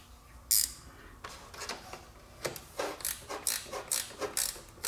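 Ratcheting clicks from a wrench tightening a chute actuator mounting on a John Deere 1025R, in a steady series of short close metallic ticks after a brief sharper clank.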